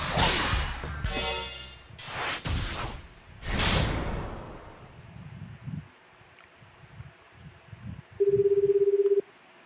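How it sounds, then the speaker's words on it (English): A cell phone call in the video game 428: Shibuya Scramble: several loud swishing bursts, then a single steady electronic ring tone near the end, with no voices. "The phone rang several times."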